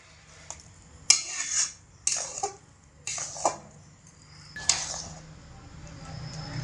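Vermicelli payesh being stirred in a pot over low heat, a few distinct scrapes and clinks of a spoon against the metal pot in separate strokes, fairly close over quiet background.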